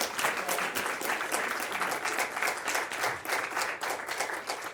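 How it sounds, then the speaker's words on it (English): Applause from a live Q&A audience, a dense, even wash of many hands clapping that holds steady throughout, fairly close and moderately loud. "So can we all just give her a round of applause?"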